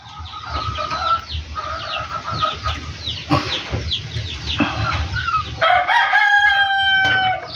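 Flock of farm chickens with young chicks, heard as a dense, loud mix of clucks and cackles, with a rooster crowing near the end, close and continuous.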